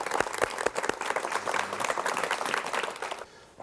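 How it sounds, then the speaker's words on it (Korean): A studio audience on a 1986 KBS talk show applauds to welcome pianist Han Dong-il, a continuous burst of many hands clapping with sharp individual claps up front that fades near the end. "박수로 맞이해 주십시오"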